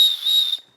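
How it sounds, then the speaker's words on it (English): A small emergency whistle built into the shoulder strap of an inov-8 Ultrapac Pro 8 hydration pack gives one short, shrill, steady blast lasting well under a second, loud and close with no other sound. "we've got your little emergency whistle, and it's actually a pretty good whistle"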